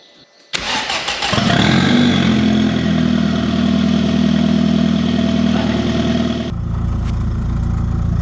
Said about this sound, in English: Right, I think we are ready to fire this up.